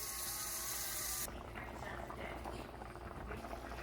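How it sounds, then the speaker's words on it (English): Pinto beans simmering in a pot on the stove, a soft steady bubbling and gurgle that continues quietly throughout at low level. "Now that the beans are cooking down a little bit"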